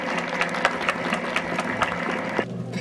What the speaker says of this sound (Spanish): aplauso a nuestro señor presidente